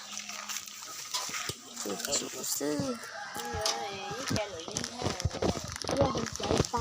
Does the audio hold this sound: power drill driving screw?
no